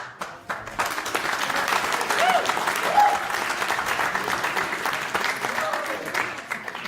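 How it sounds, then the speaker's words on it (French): An audience at a French talk on equal opportunity breaks into sustained applause, dense and loud after a brief opening, holding steady for several seconds with faint voices underneath. "Je ne sais pas si c'est Macron que vous avez applaudi"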